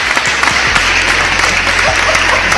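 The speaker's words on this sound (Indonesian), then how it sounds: "Mau tepuk tangan lagi boleh loh?" A studio audience at a podcast recording gives a short burst of applause, brisk and close, with the clapping heard clearly on its own.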